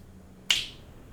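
One crisp finger snap lands sharply midway through otherwise quiet air, bright and close, then fades quickly.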